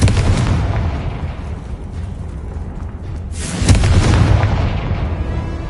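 Explosion from a Confringo blasting spell in Hogwarts Legacy, a loud booming burst with rumbling tail, preceded by ongoing low rumble and a second sharp blast rising late.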